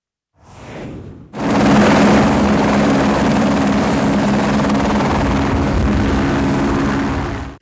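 An H125 border patrol helicopter runs loud and close for several seconds, its steady turbine whine and rotor roar starting abruptly after a brief softer burst, with no voices.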